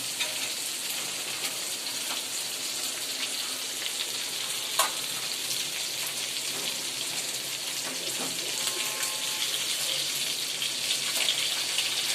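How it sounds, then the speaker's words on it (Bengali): Hilsa fish and fish heads fry in hot oil in a pan, a steady close sizzle running throughout with faint stirring clinks and a brief sharp tap near the middle. "দেখুন কত সুন্দর করে ভাজা হচ্ছে"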